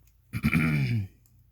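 A single short, throaty cough or grunt-like expulsion from a person working on a skull sconce upcycling craft, close and fairly loud, lasting under a second with quiet room tone before and after.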